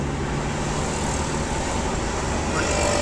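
Steady road traffic rumbles in Karachi as a car overtakes, giving a broad engine and road drone that stays fairly loud and even, with no clear voice in the foreground.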